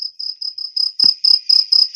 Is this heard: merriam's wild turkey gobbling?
no